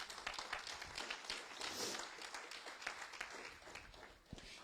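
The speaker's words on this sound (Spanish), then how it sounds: "Denle un fuerte aplauso al Señor, hermanos." A church congregation claps in praise during a Spanish-language service, a quiet, dense patter of many hands heard from a distance, holding steady for a few seconds with a few sharper taps near the end.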